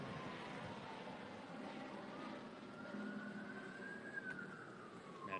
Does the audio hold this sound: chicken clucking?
no